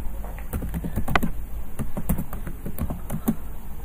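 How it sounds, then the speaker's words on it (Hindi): Steady typing on a computer keyboard in Notepad, a close, continuous patter of key taps at an uneven rhythm with a few louder strikes, heard alone without talk. "जैसे मैं यहाँ कुछ भी टाइप कर लेता हूँ दोस्तों, जैसे मैं टाइप कर लेता हूँ"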